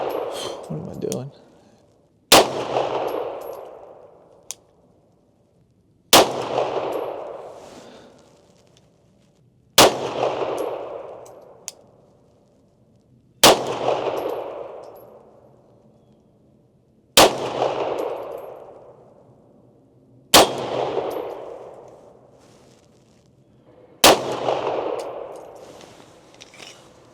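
M9A1 pistol fired at a morning shooting range: seven sharp, loud shots spaced about four seconds apart, each followed by a ringing echo that fades before the next.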